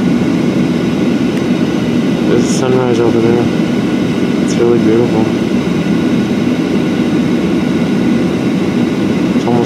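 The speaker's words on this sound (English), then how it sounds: "We're on a Southwest Airlines plane going to Cancun, Mexico." A Southwest Airlines passenger jet sits before takeoff, its engines giving a steady, loud cabin drone and rumble throughout, with a person talking over it.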